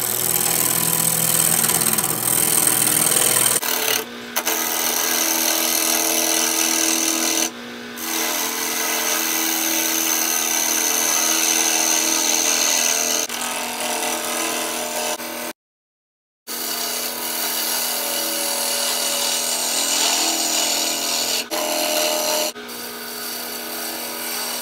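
Steady, loud shaping of a wooden tobacco pipe on a wood lathe running at 1200, the tool cutting continuously and close up with a few short breaks and one full pause.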